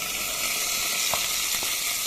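Washed rice going into a pan of browned vermicelli frying in fat, for Egyptian vermicelli rice, with a steady, loud, close sizzle throughout and a few faint clinks; no talking.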